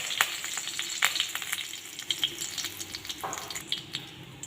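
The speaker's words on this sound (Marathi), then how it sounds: "एका कढईमध्ये थोडंसं तेल ओतून घेऊ तर यामध्ये थोडेसे आपण मोहरी टाकून घेऊयात मोहरी तर ते आपण त्याच्यामध्ये कडीपत्ता टाकूयात" Mustard seeds and curry leaves frying in oil in a kadhai, a close, steady sizzle with sharp crackles and pops scattered throughout.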